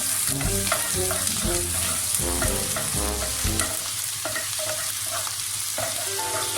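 Onion and thyme sauté in a hot pan for a vegetable soup, a steady sizzle of frying under repeated scraping and stirring strokes, close and continuous.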